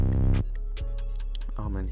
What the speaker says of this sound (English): after that, I added a drill 808, which sounds like this